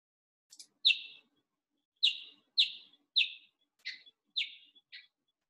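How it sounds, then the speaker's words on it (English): A New Holland honeyeater gives a series of sharp, high chirping calls, about seven separate notes spaced irregularly, clear and fairly close against silence. "New Holland honeyeaters are fairly noisy."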